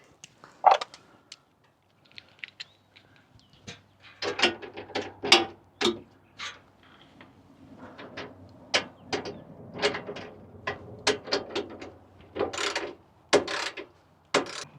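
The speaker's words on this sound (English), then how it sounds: "We're actually gonna tighten that one little bolt a little bit more that I left." A ratchet tightens a bolt under a Chevy Colorado Trail Boss, with bursts of rapid pawl clicks in uneven runs separated by short pauses, close and clear with no talk.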